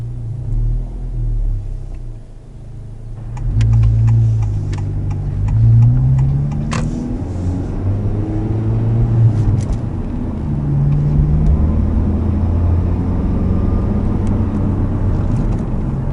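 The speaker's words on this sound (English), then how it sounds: "here we go into first and just taking off" A Honda Civic FL5 fitted with a Magnaflow exhaust pulls away in first gear, its loud, deep exhaust drone rising steadily from idle into an easy, sustained acceleration, close and continuous throughout.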